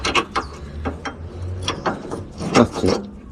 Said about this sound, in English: Get that bloody nut out of the gun.